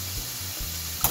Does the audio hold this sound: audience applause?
no